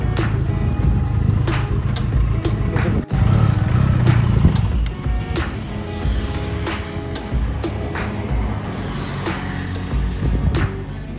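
Benelli Leoncino 500 motorcycle engine on a test ride, a loud, steady engine drone with wind rush and occasional sharp knocks and shifts, running throughout with no talk.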